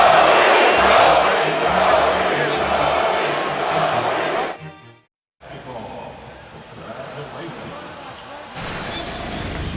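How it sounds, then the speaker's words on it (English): A Philadelphia basketball arena crowd chants for Kobe Bryant during his farewell season with the Lakers, loud and rhythmic for several seconds, then a brief cut and a quieter crowd murmur. "Kobe says goodbye to his hometown of Philly, the crowd starts to chant."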